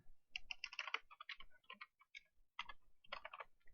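Typing on a computer keyboard while working in Excel, a fast run of light clicks in uneven bursts with short pauses, close and fairly quiet, no voices.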